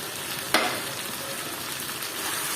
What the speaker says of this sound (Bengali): আর এখন কুমড়াটা দিয়ে আমিও আবার এই সবজিটা আবারও নেড়ে চেড়ে দিচ্ছি